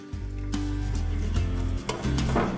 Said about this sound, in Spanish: vamos a freír lentamente hasta que se torne transparente